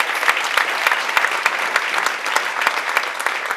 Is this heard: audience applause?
yes